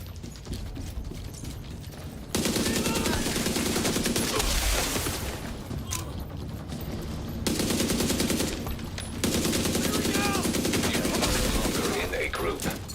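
Automatic weapon fire in the shooter game The Division 2, long rapid bursts of loud rattling shots in several sustained volleys with brief pauses between, with a voice talking faintly underneath.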